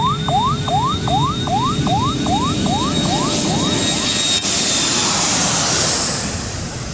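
Jet airplanes roar steadily near a busy runway as they land and take off, a loud continuous rumble with a series of quick rising chirp tones repeating through the first few seconds.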